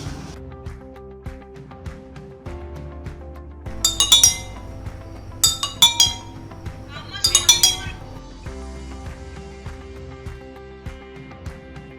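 Three glasses of water are handled during a school experiment day, producing bright clinks and ringing taps in several bursts, with quieter handling noise and faint background sounds between them.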